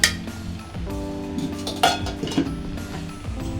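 A metal lid clinks onto a cooking pot of Bengali soyabean curry, with sharp clanks and rattles of metal cookware against a background hum.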